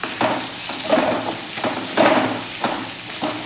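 Spices and ground masala being stirred in a pan for dry mutton, with a series of scraping, lightly sizzling strokes repeating roughly every second, moderately close and with no talking.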